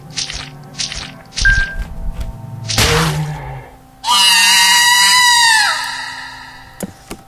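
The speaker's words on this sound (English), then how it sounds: "now you know what a little girl screaming sounds like" A little girl's shrill scream in the horror video game Mad Father, loud and sustained for about two seconds after a run of game sound effects and thumps, then fading out.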